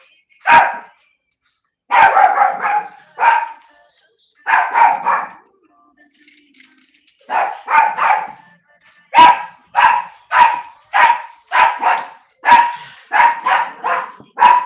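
A dog barks loudly and close by, first in scattered bursts, then in a quick run of repeated barks.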